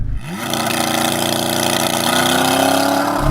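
A Corvette Z06 with a naturally aspirated V8 launching from a standstill in a 0-60 acceleration test, its loud engine note rising steadily and droning close by for the whole stretch, with no talk over it.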